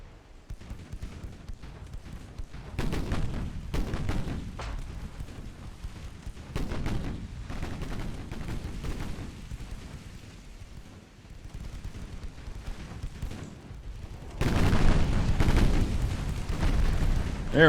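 Naval gunfire and shell impacts in the warship game Ultimate Admiral: Dreadnoughts: repeated deep booms and rumbling blasts rolling over one another, with a heavier cluster of explosions near the end.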